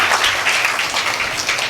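A crowd at a Salem summer class closing ceremony breaks into loud, sustained applause, a thick, continuous patter of many hands clapping at close range.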